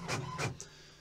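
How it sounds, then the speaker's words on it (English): A printer runs softly in the background, two quick whirring sweeps followed by a faint higher whine, all brief and quiet. "You can probably hear the printer whirring in the"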